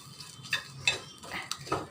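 Cumin seeds fry with onion, garlic and dried chilli in a pan, a quiet sizzle beneath a few light scrapes and taps of a utensil stirring against the pan.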